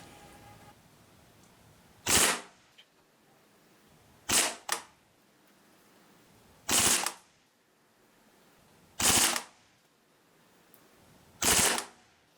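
A Sig Sauer Rattler replica BB gun fires five short, loud full-auto bursts spaced about two seconds apart, each a sharp rattling crack standing alone against a quiet background.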